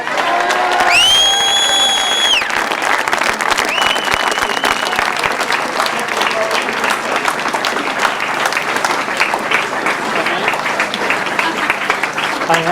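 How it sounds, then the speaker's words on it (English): Loud crowd applause and cheering for a grasstrack rider finishing second in the final at the 2008 British Masters, sustained throughout with whistles and shouts rising near the start. "there's going to be a very big round of applause for the rider that rode a brilliant final and finished in 2nd, Paul Cooper!"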